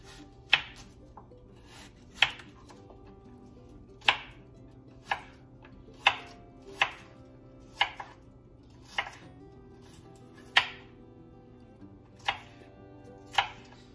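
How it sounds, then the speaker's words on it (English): An onion being cut up with a knife, about a dozen sharp chops spaced irregularly, each one crisp and close against a quiet kitchen background with no talking. "I'm just cutting up the onion here"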